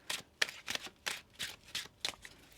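A deck of tarot cards being riffle-shuffled by hand, about eight quick crisp bursts in an even rhythm, close and clear with no voices.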